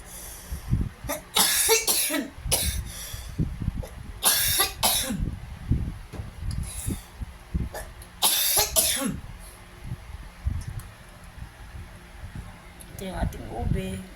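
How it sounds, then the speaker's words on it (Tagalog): A person with a cough coughs repeatedly, sharp bursts coming in clusters while making ube turon, with talking in between. "dahil may ubo nga ako"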